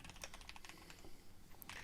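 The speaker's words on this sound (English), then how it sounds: "Don't you hear those keys going?" Quick clicking keystrokes on a computer keyboard, a brisk irregular run of light taps heard close but very quiet, alone with no talking.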